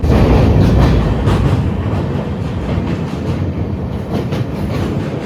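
A train crossing the Pamban bridge at Rameswaram, a steady, loud rolling rumble with rhythmic clickety-clack wheel beats that ease slightly after the first second and carry on evenly throughout.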